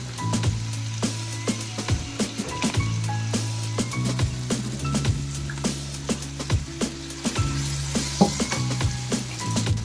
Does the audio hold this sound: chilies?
yes